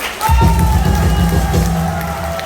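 Audience at a Korean outdoor political rally cheers and claps, a loud burst of crowd noise with shouting and babble rising suddenly and continuing.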